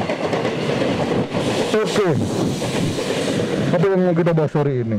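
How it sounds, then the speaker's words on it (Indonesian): A train passes close by, rumbling and clacking as a loud continuous roar while someone talks over it, and a horn-like tonal blast comes in near the end. "Wow, ada kereta guys."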